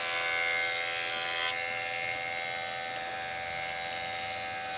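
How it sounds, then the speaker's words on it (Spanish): Steady electric wood planer smoothing butcher block boards for a cutting board, a continuous high buzzing whine that holds close and loud throughout with no talk. "Después de eso, las vamos a poner al cepillo para que queden"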